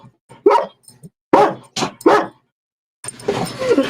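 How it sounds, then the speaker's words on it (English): Pit bull dogs bark loudly and close by in a cluster of sharp barks, then a pause and a rougher burst of barking and whining at the end. "My dogs want to go for their walk."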